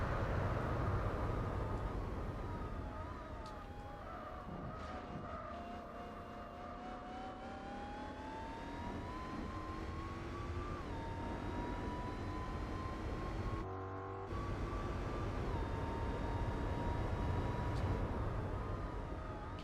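Racing car engines in Gran Turismo 4, including a twin-turbo V6, drone steadily with rising and falling engine tones as cars run close together on track, loud and continuous with a brief cut near the end.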